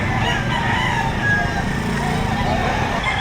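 A rooster crows near a busy chicken market behind SM City Lipa in Batangas, its call partly masked by a steady din of crowd noise and passing traffic.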